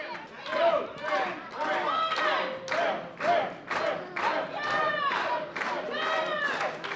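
A wrestling event crowd cheers and roars in waves, with chanting voices rising and falling, while a commentator talks over the noise.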